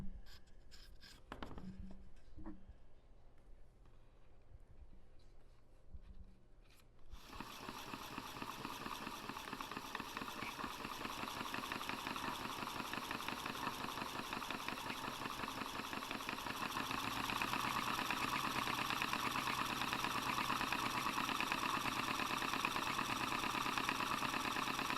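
After a few quiet seconds with faint clicks, an electric spinning wheel starts with a continuous mechanical whirring hum that runs steadily, gradually getting a little louder.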